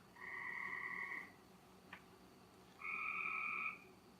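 A frog croaks twice at night on a farm, in two long, even, buzzing calls a couple of seconds apart. The calls are faint against a quiet background, with a brief click between them.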